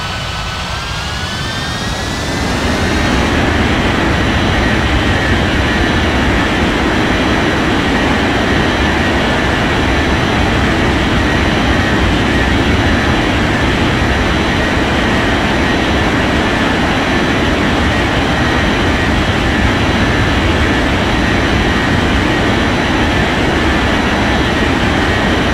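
A jet airliner landing in an air traffic control game roars loudly and steadily throughout. A rising whine fades in over the first few seconds, then gives way to a constant, dense engine rumble.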